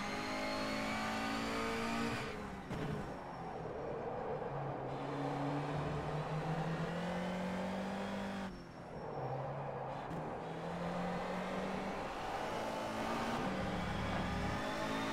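Honda Civic touring car engine racing around Okayama in rFactor 2, a steady loud high-revving roar with rising and falling pitch through gear changes, two brief dips in revs as it lifts for corners, with faint tire noise.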